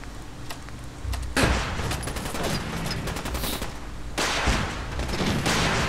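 Dense, loud Fallout 4 gunfire rattles in rapid bursts while rockets strike the floor with heavy impacts. The fusillade runs almost without pause and gets stronger near the end.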